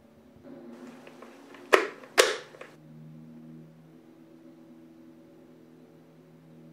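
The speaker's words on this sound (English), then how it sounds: "The next step is to just clip it onto your helmet." A GoPro action camera mount clips onto a helmet with two sharp, close plastic snaps less than half a second apart. Faint handling rustle comes before them, and a quiet steady hum follows, with no talking.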